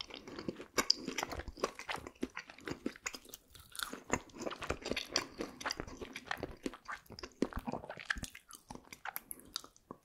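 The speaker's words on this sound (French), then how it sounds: "Je prends une grosse frite." Burger King fries are chewed close to the microphone in steady, crunchy and moist mouth sounds, dense rapid bites and mastication running continuously through the whole stretch without any talking.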